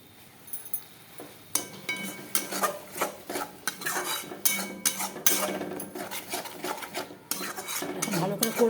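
Spices for a katla fish curry are stirred and fried in oil, with a spatula scraping and clinking against a metal pan in quick irregular strokes, close and fairly loud, under a faint sizzle and no talking.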